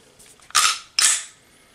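Two sharp, loud snaps roughly half a second apart from the trigger of a Sig Sauer P320 pistol breaking during dry fire, each a crisp metallic click that rings briefly in an otherwise quiet room.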